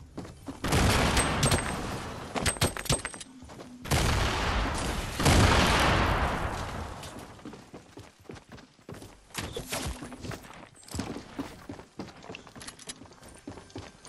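Hunting rifle gunfire in the Fortnite video game sounds as several sharp, loud shots and crackling bursts with echoing tails in the first half, followed by quieter scattered clicks and taps, with no talk.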